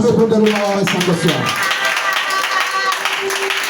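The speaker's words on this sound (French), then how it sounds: "Alors acclamez le Saint-Esprit" Congregation clapping to acclaim the Holy Spirit at a French-language fasting and prayer worship service, a dense burst of many hands at first over music and voices, then steady crowd noise.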